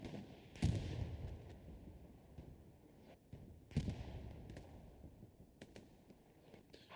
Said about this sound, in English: A lot of explosions coming in.